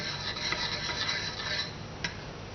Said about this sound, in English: So I'll have to keep on stirring